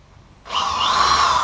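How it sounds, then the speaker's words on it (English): A small power drill bores a guide hole in wood for a stilt costume build, starting abruptly after a quiet moment and holding a steady close whine. "Now we've got little holes drilled just for a guide"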